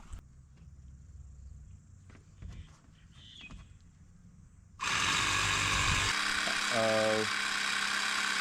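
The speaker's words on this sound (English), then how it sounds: "I'll just try to pump this tyre up and then see if it's got enough power to pump up these front shocks." Small electric air pump inflating the front air shocks of a home-built reverse trike, switching on partway through with a loud, steady buzzing drone close by after quieter handling and rustling.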